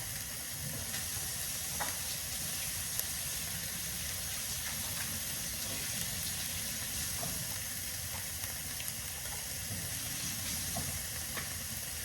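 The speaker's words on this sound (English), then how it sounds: "we're just going to let our meat get to browning, you guys, for a little bit here" Ground meat browns in a pan over medium-high heat for tacos, giving a steady, even sizzle with faint scattered crackles throughout and no talking.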